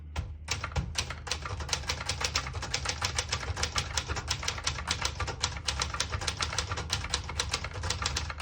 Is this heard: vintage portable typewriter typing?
yes